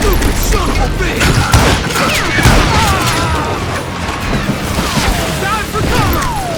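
Heavy gunfire fills a video game shootout, with dense bursts, booms and impacts overlapping continuously and loudly, mixed with shouted voices.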